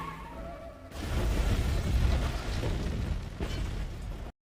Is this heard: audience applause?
no